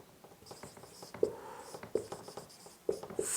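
Marker or chalk strokes scratch across a board during a maths lesson, close and faint, in short irregular bursts with a few sharper taps.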